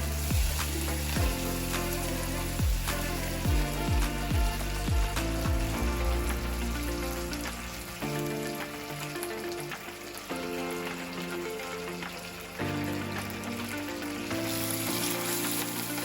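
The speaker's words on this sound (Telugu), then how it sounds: "ముందుగా అయితే పచ్చిశనగపప్పు జీలకర్ర ఆవాలు వేసుకుని బాగా ఎప్పుకున్న తర్వాత లాస్ట్లో అయితే కరివేపాకు ఎండుమిర్చి వేసి బాగా ఎప్పుకుని తాలింపు అయితే పెట్టుకోవాలి" A tempering of chana dal, cumin, mustard seeds, curry leaves and dried red chillies fries in hot oil, giving a dense, loud sizzle with popping and spattering throughout and occasional stirring clinks. No voices.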